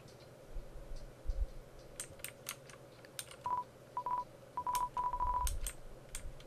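Phone dialing tones from the video game Undertale, a series of short electronic beeps in quick, uneven succession at moderate volume, mixed with soft clicks and faint background sounds.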